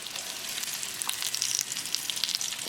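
A salmon fillet frying in a pan over low gas gives a steady, close hiss of sizzling oil with small crackles and pops scattered throughout.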